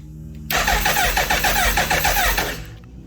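A Hayabusa motorcycle engine, newly fitted with a MaxxECU, cranks with a rapid rhythmic churn of the starter on a low battery, catching briefly for about two seconds before dying away, close and loud.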